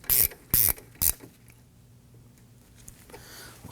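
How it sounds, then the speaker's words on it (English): Slide pin bolt being threaded into a rear brake caliper on a Nissan Murano, three sharp close ratcheting bursts in quick succession followed by a quiet pause and faint handling noise. "I'm going to go ahead and run our slide pin bolt in all the way."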